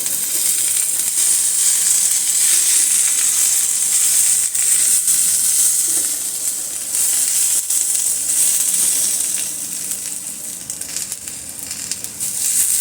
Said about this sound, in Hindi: और इनको भी थोड़ा सा सोटे कर लेंगे। बस 2 मिनट ही इसको हाई फ्लेम पे पकाना है।